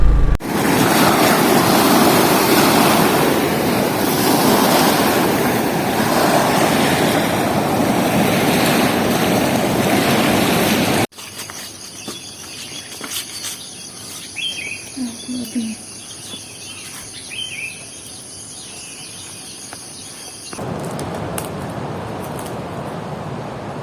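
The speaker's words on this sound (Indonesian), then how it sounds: "akhirnya kita sampai teman-teman ya di Pantai Teluk Asmara" Ocean surf at Pantai Teluk Asmara beach rushes in a steady loud wash for about eleven seconds, then drops away to quieter wind and scattered bird calls.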